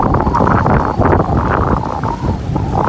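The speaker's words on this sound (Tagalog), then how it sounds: "Lakas ang hangin." Strong wind buffets the microphone in a steady roar, with gusts surging and easing throughout, and water movement faintly beneath.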